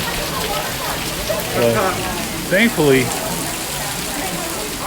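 Heavy sheets of wind-blown rain pour down outside during a flood at Magic Kingdom, a steady dense hiss heard from indoors, with brief talking over it.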